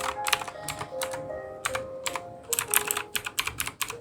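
Someone types on an Amkette Evo Fox Katana mechanical gaming keyboard, producing close, crisp clacking keystrokes in irregular bursts and quick runs against a quiet room.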